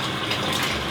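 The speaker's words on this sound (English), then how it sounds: "that's the water." Steady, loud rush of water gushing from a newly plumbed tap, a continuous broadband spray with no voices.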